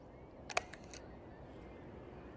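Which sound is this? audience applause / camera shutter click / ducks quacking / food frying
camera shutter click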